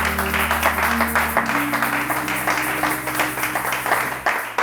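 A church congregation applauding and cheering God: dense, continuous clapping throughout, with a low sustained musical tone beneath that drops in pitch partway through.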